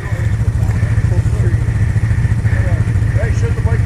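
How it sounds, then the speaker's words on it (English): A motorcycle engine idles loud and close, a constant low throbbing rumble with mechanical clatter, and voices talk over it. "shut the bike down"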